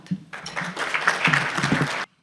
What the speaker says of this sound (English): Please give a round of applause to President Shafi Shafat